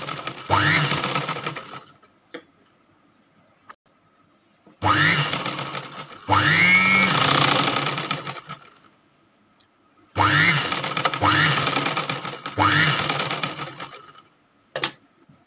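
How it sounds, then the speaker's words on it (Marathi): A sewing machine stitches blouse lining to main fabric in several separate runs of rapid mechanical whirring, each a second or two long, with quiet pauses between them and no voices. "तर बघा आता इथं आपण अस्तर आणि मेन फॅब्रिक स्टिच करूया."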